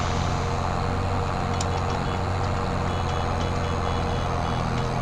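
A farm vehicle in Farming Simulator 2023 backs up with a regularly repeating reverse alarm beep over a loud, constant engine rumble.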